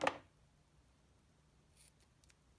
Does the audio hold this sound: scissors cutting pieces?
yes